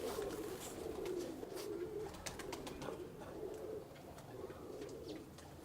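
A pigeon coos softly and repeatedly at close range, low gentle calls in an uneven rhythm over a quiet room, with no talking.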